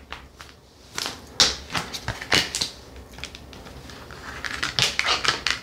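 Tarot cards are shuffled in quick bursts of riffling and slapping, with short pauses between, close by and fairly soft.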